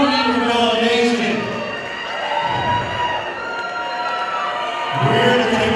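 A live wrestling crowd at a PCW tag team championship show cheers and roars in a large room, loud and close, swelling and fading with scattered shouts over a continuous din.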